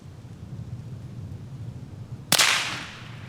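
A single sharp .22 LR rifle shot fired with a CCI Stinger round through a mango, bursting out after a few seconds of low outdoor rumble and trailing off in a short decaying crack, with no talking.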